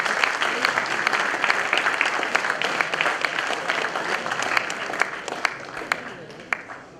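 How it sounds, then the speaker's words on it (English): An audience at a career guidance program applauds a guest speaker. The clapping is brisk and sustained, with many individual claps, and it gradually thins out toward the end. "One line introduction about him."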